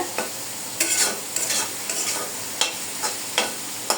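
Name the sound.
stir-frying leafy greens in pan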